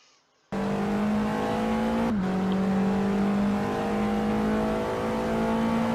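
A TCR touring race car howls at full throttle on the Cadwell Park circuit, a loud steady engine note with a brief dip and gear change about two seconds in before it pulls on again, close and continuous.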